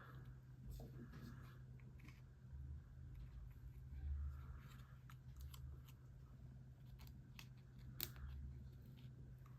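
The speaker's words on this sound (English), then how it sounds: "I know I should be probably using my take your pick tool instead of scissors, but this works too" Scissors cut paper while making a heat-embossed sympathy card: faint, close snips scattered over a quiet room hum, with one sharper cut near the end.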